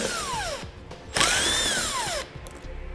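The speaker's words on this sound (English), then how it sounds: "So we'll grab a 7mm socket and pull them out." A power tool fitted with a 7mm socket whines and revs in short, loud bursts up close as it backs out bumper bolts on a 2012 GMC Terrain, with pitch rising and falling between pulls.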